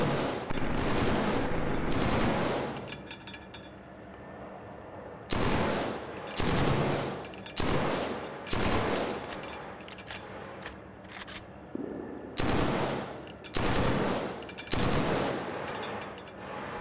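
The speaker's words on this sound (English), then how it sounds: "firing at short bursts to minimize the spread naturally caused by prolonged firing" Short bursts of automatic gunfire in the Killzone 3 multiplayer shooter, loud rapid volleys of one to two seconds separated by brief pauses, repeated several times.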